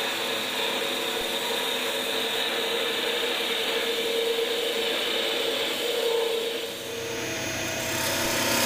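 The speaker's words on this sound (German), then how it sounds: "Nun wird die geschrubbte zylindrische Form geschlichtet. Dazu benutzen wir einen 25 mm Drehmeißel." A wood lathe spins while a 25 mm skew chisel smooths a roughed cylindrical blank, giving a steady close scraping, shaving hiss with a faint mechanical hum that briefly dips and resumes near the end.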